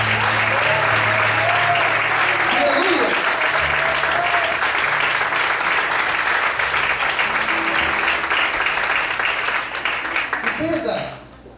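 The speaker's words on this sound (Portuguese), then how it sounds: "Será que você pode aplaudir o Senhor nessa noite?" A church congregation applauds during a Portuguese-language evening sermon, sustained loud clapping from a crowd with voices and a sung or shouted tone mixed in, fading away near the end.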